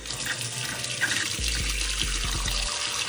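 Water runs steadily from a household tap into a sink, a continuous close rush that holds throughout with a few soft knocks underneath and no talking.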